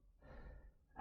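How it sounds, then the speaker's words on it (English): A single deep, breathy exhale during a Pilates exercise, soft and close, rising into a brief louder rush of air at the very end. "Deep breath in through the nose and exhale"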